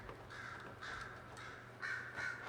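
Several crows caw in short harsh bursts in a Dragon Age Inquisition scene, faint and somewhat distant, in groups of two and three calls over a quiet background.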